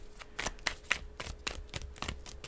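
Tarot cards shuffled by hand in a loose, uneven way: a quick series of crisp papery riffles and flicks, close and fairly loud, with no voices.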